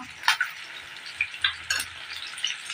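Fish frying in hot oil until crisp and reddish, a steady soft sizzle with a few sharper crackles and pops spread across the clip, no voices.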